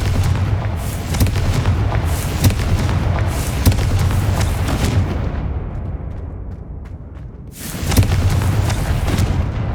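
Fire-blast spell explosions from the video game Hogwarts Legacy boom repeatedly in loud, dense bursts with rumbling artillery-like blasts. A brief lull comes, then the blasts resume.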